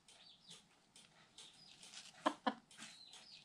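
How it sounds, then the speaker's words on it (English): A hen gives a few soft, quiet clucks, with two brief sharper notes partway through, faint and close with no other sounds. "Oh, she cluck-clucked."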